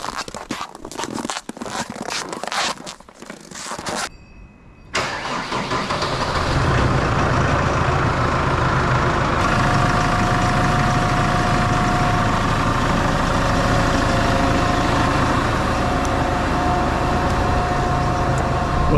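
Kubota tractor diesel engine in below-zero cold, cranking through a series of sharp starter bursts, a brief pause, then catching and settling into a loud, steady, close idle rumble that runs on to the end.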